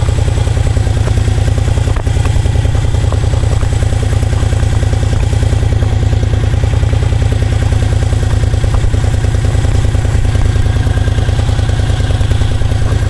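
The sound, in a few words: 2001 Moto Guzzi EV80 motorcycle engine during ride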